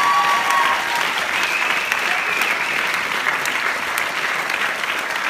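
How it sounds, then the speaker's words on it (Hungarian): A crowd applauds a dance teacher at a group's year-end event, dense sustained clapping filling the room at steady loudness, with faint voices beneath. "nagy-nagy köszönet és nagy-nagy tapsját neki is"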